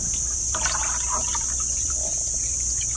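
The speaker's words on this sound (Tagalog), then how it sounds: "Dagdagan muna natin ang tubig." Water poured into a guppy breeding tank, a steady close splashing and trickling stream that runs for the whole stretch, with no talk over it.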